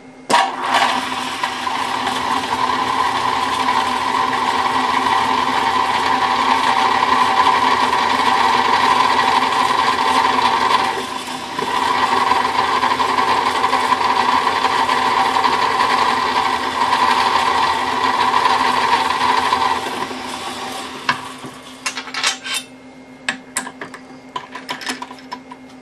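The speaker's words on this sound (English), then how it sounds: "I'm going to be drilling a 1/8 hole in this" A power drill with a 1/8 bit drilling out old rivets on an AK-47 build, a steady loud high whine running for about twenty seconds with a brief dip midway, ending in scattered clicks and knocks.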